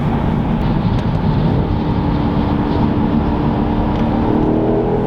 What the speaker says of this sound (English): You can just feel the turbo lag and then spool and then go.